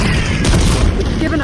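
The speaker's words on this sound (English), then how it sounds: "Grenade." A grenade goes off in a military shooter game, a short loud boom with crackling blast noise, heard close amid game chatter and a voice.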